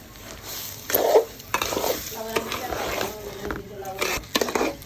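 Polao rice being stirred in a pot for chicken biryani, with rough scraping and clattering of a spoon against the pot in uneven strokes over a light sizzle, close by.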